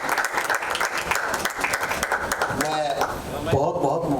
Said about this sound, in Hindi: जोरदार तालियों के साथ स्वागत करते हैं रिस्पेक्टेड श्री अगम निगम जी का